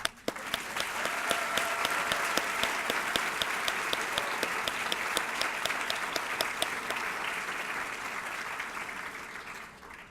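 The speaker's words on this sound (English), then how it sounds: "I'll applaud that" An audience applauds the evening's MC, a CNN contributor, at a formal event: sustained, dense clapping that stays loud throughout and fades slightly toward the end, with no voices over it.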